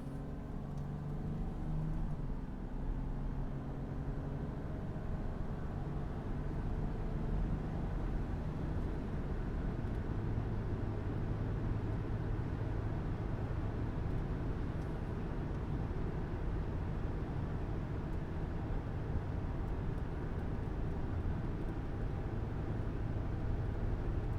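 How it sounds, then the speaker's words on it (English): A 2003 Toyota Tacoma pickup accelerating hard through the gears, heard as a steady, loud engine drone and whir from inside or near the truck, continuous throughout with no distinct pauses and no speech. "Do a good little decent hard acceleration right here. Go through all the gears for you."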